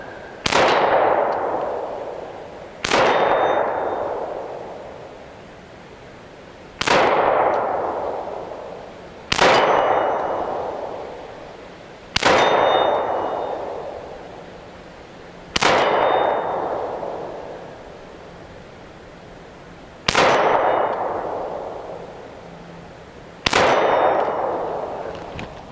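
A Ruger P95 9mm pistol fired at steel targets: eight loud single shots spaced a few seconds apart, each followed by a ringing metallic clang that slowly fades, with no talk.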